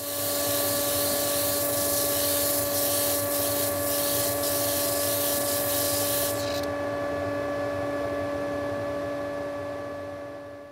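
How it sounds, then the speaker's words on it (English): A disc sander flattens the face of a cast resin desk clock holding a tiger moth, a loud steady motor hum with gritty rasping friction that ends abruptly partway through, leaving the motor whirring alone as it spins down. "take it back to the disc sander and flatten this face"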